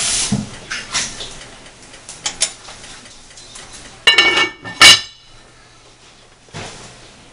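Metal lid clinks and rattles onto a soup pot in a home kitchen, with scattered light taps followed by a couple of sharper clanks as it settles, then quiet.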